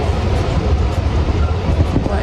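Inside a passenger train car, a steady loud low rumble of the moving train fills the space, with continuous rolling noise and no distinct clacks.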